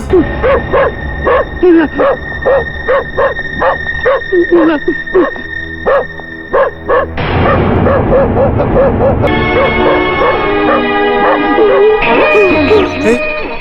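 A police tracking dog barks repeatedly in a quick, regular series, close and loud, before the barking gives way to sustained tonal music.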